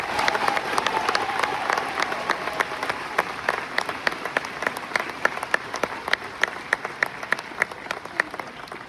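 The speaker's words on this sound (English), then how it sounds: "Please join in applause as we recognize our special guests." A graduation-ceremony audience applauds faculty and staff with sustained clapping, dense at first and then thinning into distinct, rhythmic nearby hand claps over a crowd-wide background.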